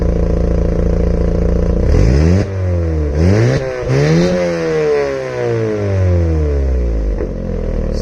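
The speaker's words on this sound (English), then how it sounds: "I'll give you a little rev" Audi engine revving through a homemade exhaust, loud and close, with a steady idle that climbs into several rising and falling revs, its deep throaty drone sweeping up and down.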